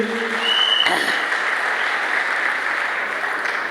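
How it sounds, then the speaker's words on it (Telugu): A room of people at a family achievers training session clap together, loud and steady, with a dense, even patter that holds for a few seconds and no speech over it. "ఒకసారి క్లాప్స్ ఇచ్చుకోరు మీకు మీరు"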